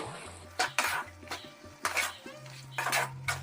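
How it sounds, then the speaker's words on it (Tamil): Chicken being sautéed with masala in a pan, with sharp metallic clinks of a spoon scraping and stirring against the pan in irregular bursts over a low background hum. "இப்போ நம்ம சேர்த்துக்கிட்ட இந்த மசாலாத்தோட சிக்கன் கூட நல்லா பச்சை வடை போகும் வரைக்கும் வதக்கி விட்டுருவோம்"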